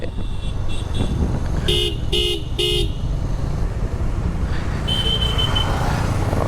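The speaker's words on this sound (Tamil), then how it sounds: "எதுக்கும் நிப்பாட்ட சொல்கிறாங்க, ஹார்ன் அடிக்கிறாங்க." Over steady road traffic noise, a car horn toots once briefly, then three short honks come in a row, with another faint honk later.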